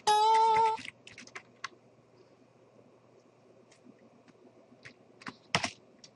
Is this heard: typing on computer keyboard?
yes